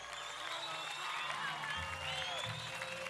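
Audience applause at the Miss Tahiti 2008 pageant evening, honouring the show's organiser: a steady wash of clapping from a crowd, sustained and fairly even throughout, with faint voices mixed in underneath.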